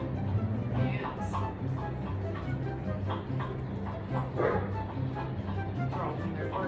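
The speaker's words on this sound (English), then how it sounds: "Girls, you're barking." Several pet dogs yip and bark softly at close range in a home, scattered short calls and sniffing under someone talking to them throughout.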